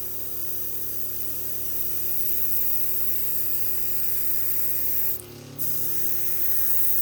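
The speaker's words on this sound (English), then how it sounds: "let's do a quick test spray" An airbrush sprays a test burst of paint, a steady close hiss that holds for several seconds, cuts out briefly, then resumes, with a compressor humming underneath.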